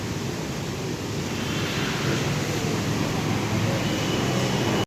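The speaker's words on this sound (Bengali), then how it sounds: "ধুলো বালি পুরো অন্ধকার তেমন হাওয়া" Strong wind in a dust storm roars steadily as a loud, continuous broadband rush with no breaks, like gusts blowing hard outside a home just before rain.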